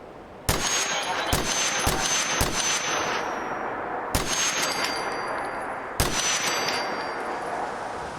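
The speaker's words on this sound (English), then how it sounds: "I hear gunfire." Gunfire in the video game Fallout 4 VR: several sharp, ringing shots with metallic tails, a quick cluster of three or four followed by two more spaced bursts, loud and close.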